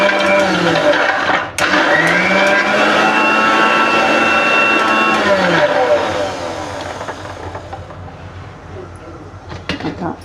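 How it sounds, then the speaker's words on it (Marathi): A mixer grinder whirs loudly as it dry-grinds thandai ingredients without water, a steady close high-pitched motor roar with a short dip early on, easing slightly toward the end amid faint clatter. "आधी पाणी न घालताच वाटत आहे मी."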